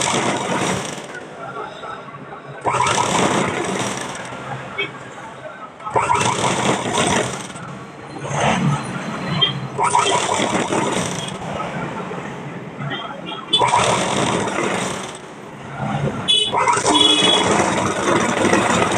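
A sewing machine hems the double-folded edge of a baby frock, running in several loud, close bursts of rapid mechanical stitching separated by short pauses.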